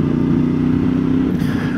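A CFMoto 450MT motorcycle engine holds a steady mid-range drone, close and continuous, with a small lift in pitch near the end.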